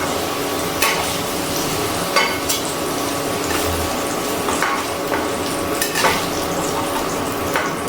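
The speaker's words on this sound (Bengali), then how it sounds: "খুব ভালো করে কিন্তু কোয়াশগুলো ভেজে নিয়েছি।" Chayote squash fries in hot oil in a wok: a constant bubbling sizzle broken by several metallic scrapes and clinks of a utensil against the pan, with nobody speaking.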